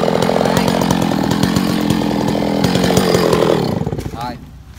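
A chainsaw cuts through wood with a loud, steady, close engine roar that holds for several seconds, then drops away as the engine winds down near the end.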